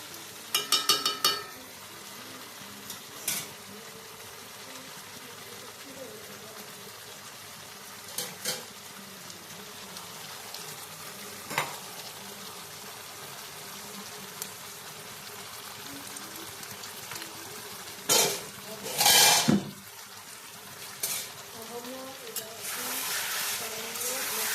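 Chicken curry being fried and stirred in a pan for a Bangla recipe, a low steady sizzle with occasional scraping stirs and a few louder clatters, heard fairly close with a voice speaking at times.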